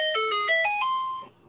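A mobile phone's ringtone plays a short, bright electronic melody of stepped notes that fades at the end, heard fairly close during a roundtable discussion.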